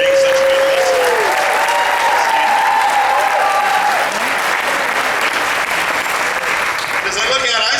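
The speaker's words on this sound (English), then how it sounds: "I think they need a round of applause for being such good listeners" Concert audience applauding young performers, a large crowd's dense, sustained clapping that stays loud from start to finish, with some voices mixed in.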